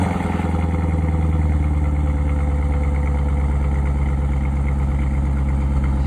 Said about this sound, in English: so I thought I'd take the Corvette, and I thought I'd take this opportunity to do a cold start